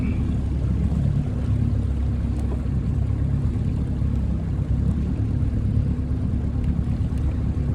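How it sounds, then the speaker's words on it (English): A small two-stroke outboard motor on a 1969 Glasspar Tacoma 14 boat runs steadily with a low, throbbing drone, constant and fairly close, with light wind noise and no voices. "It's got that little two-stroke wobble"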